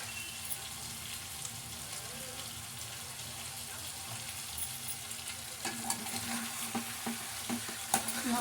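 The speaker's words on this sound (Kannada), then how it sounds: "ಈಗ ಚಿಕನ್ ಬೇಯಕ್ಕಿಟ್ಟಾಗ ಮಿಕ್ಸ್ ಮಾಡ್ತಿರ್ಬೇಕು" Chicken cooks in a pan with little water while it is stirred, giving a continuous low sizzle, with sharper scrapes and taps of the spoon growing more frequent toward the end.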